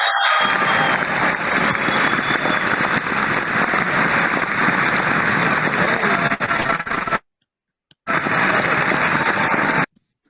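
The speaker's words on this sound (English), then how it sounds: "I like that audio effect with the applause" Dense, steady applause from a large keynote audience fills the space at high volume, breaks off abruptly into silence, then returns as a second burst of clapping before cutting out again.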